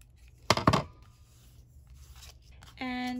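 Scissors snip briefly through paper while cutting around rounded corners, a short close burst of crisp cuts followed by quieter rustling and a faint tonal noise at the end.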